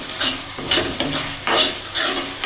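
Chilli frying in a moong dal tempering is stirred over a dim flame, with four rhythmic scraping spoon strokes over a steady close sizzle.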